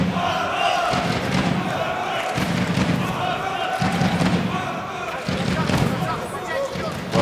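Kazakh fans at an M-1 Challenge MMA event in St. Petersburg, Russia, chanting for Arman Ashimov in steady rhythmic pulses of crowd noise with thumping beats and a commentator speaking over it.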